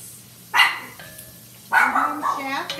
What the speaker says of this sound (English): Rain in the background barking at the monster outside that doesn't exist.